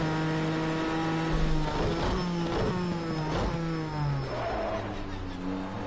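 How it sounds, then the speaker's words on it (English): A GTE race car at Fuji in Project Cars 2 drones with a steady engine note while brief squealing bursts of locking tyres break through under braking, loud and continuous throughout. "You can hear my tyres locking up as well."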